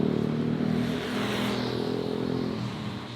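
Busy Jakarta traffic at close range, with engines and motorbikes revving and passing in a loud, dense, continuous roar, no voices.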